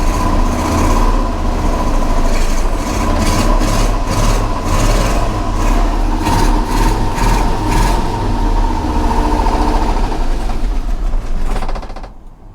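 The engine of a 1985 GMC Sierra 1500 runs loudly and continuously close by, with a rough, uneven churn from a faulty carburetor, then cuts out at the end.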